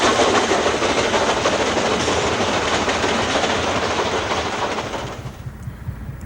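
A BR Standard Class 9F steam locomotive hauls an up freight train at Bentley Heath in the Midlands, giving a loud, steady rolling rumble with rhythmic wagon clatter that fades toward the end as the train passes.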